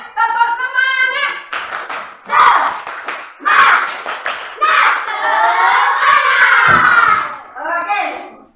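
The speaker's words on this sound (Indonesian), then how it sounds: "Tepuk semangat." Children in a classroom perform a rhythmic group spirit clap, bursts of hand claps alternating with loud chanting voices, close and energetic.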